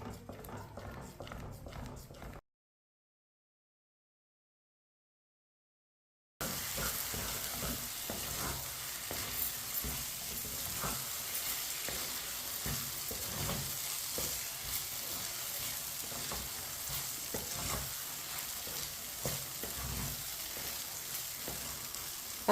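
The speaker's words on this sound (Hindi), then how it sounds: "इसे ऐसे ही चम्मच चलाते हुए अच्छी तरह पका लेना" Semolina halwa stirred with a spoon as it cooks, a dense continuous sizzle with rapid rhythmic scraping and tapping, close and steady, interrupted by a few seconds of complete silence early on.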